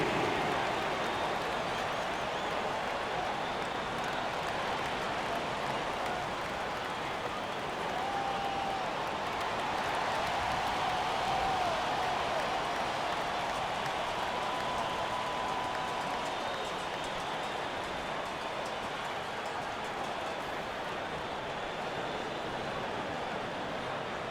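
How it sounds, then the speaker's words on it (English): A basketball arena crowd applauds a youth dance team during a game, producing a steady, dense wash of clapping and cheering that fills the space from start to finish, with a faint voice beneath it. "Another big round of applause for your Magic Youth Dance Team."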